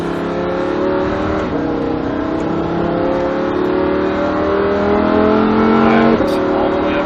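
Lamborghini Huracan 2WD accelerating hard down a track straightaway at Speed Vegas, its engine note climbing steadily through the gears with brief shift dips, loud and close from inside the car, with speech underneath.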